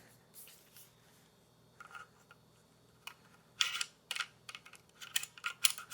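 Parts of a Peak Design Travel Tripod being folded and clicked into place: soft handling at first, then a run of crisp, close plastic-and-metal clicks and snaps grouped in quick bursts.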